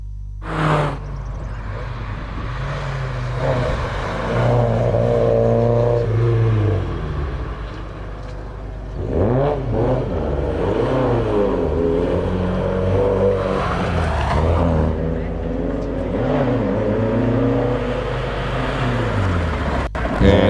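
A Mark 2 Escort race car at a hillclimb finish, its engine roaring loudly as it revs up and down through gear changes, the pitch rising and falling repeatedly over a steady rumble.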